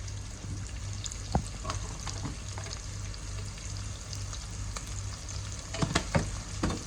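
Turmeric, chili and coriander powder stirred in a frying pan, a continuous low sizzle with occasional scrapes and clicks of a spoon against the pan, fairly quiet with a steady hum underneath and no talk.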